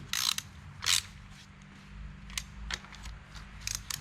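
Ratchet wrench clicking while tightening parts on a Minneapolis Moline A4T tractor engine during flywheel and crank assembly: two loud bursts of clicks near the start, then lighter scattered ticks over a low background rumble, close by.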